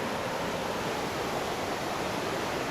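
Large ocean waves breaking at San Juan beach in San Fernando, a surfing spot in the Philippines, make a loud, continuous roar of surf and wash with no pause, close by and filling the whole scene.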